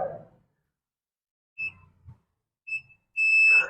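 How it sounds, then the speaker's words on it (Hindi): A multimeter continuity tester sounds short high beeps as its two probes touch, several brief tones separated by silence, close and clear, with faint handling noises between them. "इन दोनों पॉइंट को जब हम लोग सटाएंगे आपस में तो एक बीप का आवाज आएगा।"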